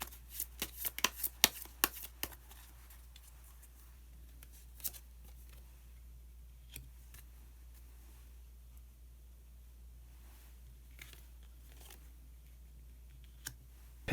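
Tarot cards are shuffled in a quick flurry of crisp riffling snaps at the start, followed by sparse, soft card taps and slides as cards are drawn, all close and fairly quiet.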